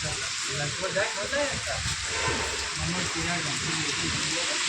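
Steady hiss of rain falling in Mehsana, Gujarat, with people talking underneath throughout.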